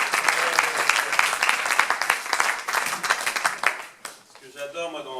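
Applause from a workshop audience at a French professional gathering, a full round of clapping with some cheering voices that tapers off near the end as people start talking.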